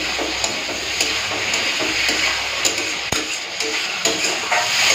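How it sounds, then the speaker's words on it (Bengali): Potatoes sautéing with spices, tomato and a little sugar in a pan, giving a steady close sizzle broken by scraping and stirring clinks from a spoon against the pan, with no voice. "আলুটা দিয়ে আর কিছুক্ষণ কষে নেবো, তাহলে হয়ে যাবে।"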